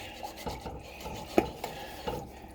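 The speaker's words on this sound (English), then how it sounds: "And then we're just going to keep mixing it." Spoon scraping and stirring through a thick green bean casserole mixture in a bowl, soft irregular rasping strokes with a few sharper knocks against the side, close and quiet with no talking.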